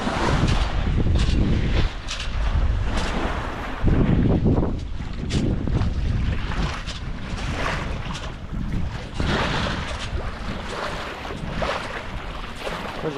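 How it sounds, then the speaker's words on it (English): A sailboat with a lone sailor aboard heads straight into ocean swells under steady wind roar, with water rushing and slapping against the hull in surging waves. "we're running into the swells now head on"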